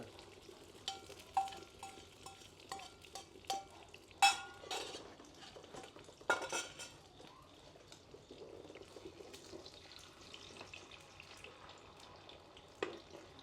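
Quiet clatter of a spatula scraping and tapping a wok, with intermittent light sizzling and occasional sharper metallic knocks.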